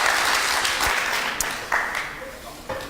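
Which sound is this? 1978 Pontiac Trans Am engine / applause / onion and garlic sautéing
applause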